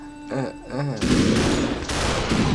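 Rapid gunfire bursts in the game SuperHot, a dense, loud volley of shots erupting after a brief vocal exclamation and continuing in close, uneven bursts to the end.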